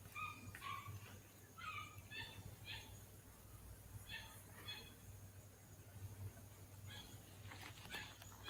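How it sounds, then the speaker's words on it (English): Several dogs bark in short scattered bursts from a distance, sounding faint against a steady low hum and background noise. "Listen to those dogs."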